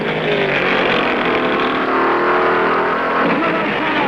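NASCAR stock cars roar into the final turn of the 1969 Daytona 500, a continuous loud engine drone with a rising and falling whine over a huge crowd of about 100,000 spectators.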